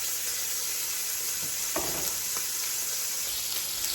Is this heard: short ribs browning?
yes